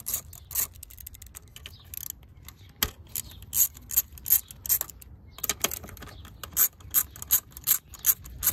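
A hand ratchet works on three 10 mm bolts on a Fiat 500 Abarth engine, giving bursts of rapid metallic clicking with pauses between turns, close and fairly loud.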